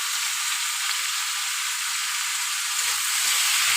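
Amudi fish frying with turmeric and salt in a pan, a loud, continuous close-up sizzle and crackle that stays even throughout, with no talking.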